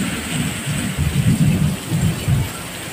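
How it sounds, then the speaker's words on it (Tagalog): Heavy rain pours steadily with low rumbles of thunder rolling through, a loud, dense wash of sound with the thunder swelling and fading in waves during a downpour that has left people stranded. "Grabe ulan na to."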